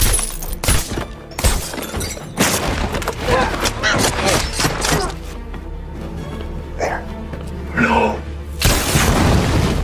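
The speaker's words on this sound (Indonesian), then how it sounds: "Akibat suara ledakan, aksi mereka diketahui tentara Dimitri dan terjadilah baku tembak." Bursts of gunfire and heavy booms from a special-forces sniper action film, loud and dense across the scene, with sharp shattering hits and a steady low rumble beneath, while voices speak over much of it.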